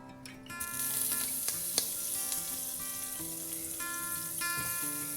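Butter melting in a medium pot on an electric hob at medium heat, a soft steady sizzle that starts after a brief quiet moment, with light clinks of utensils over it.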